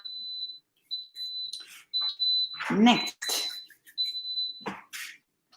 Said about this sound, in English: So the pressure cooking has completed. You can hear the beep.